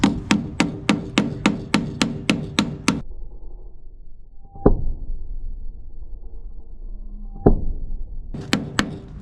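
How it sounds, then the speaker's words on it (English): Rapid, evenly spaced hammer blows ring out, then pause, followed by two single heavy strikes and a couple more quick taps at the end. "You're supposed to hit the nail."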